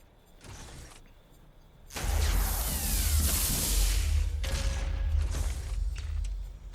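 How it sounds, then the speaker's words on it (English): Explosion in the video game Watch Dogs Legion: a loud, sustained blast with a deep rumble and crashing debris follows a few quieter mechanical sounds, then fades into a second burst of noise. "There's a big old explosion, lads."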